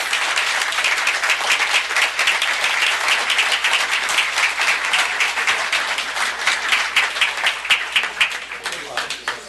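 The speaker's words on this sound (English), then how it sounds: "let's give one more round of applause for both of our council candidates, please" A crowd applauds council candidates steadily for the whole stretch, a dense wash of many hands clapping, loud and close, thinning slightly into scattered claps near the end.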